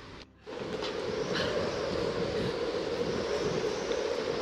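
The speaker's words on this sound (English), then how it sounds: "Oh, not this windy place again." Steady, rushing wind fills a windswept outdoor area in the Tomb Raider Definitive Edition game, a broad continuous roar that swells in after a brief quiet start and holds without a break.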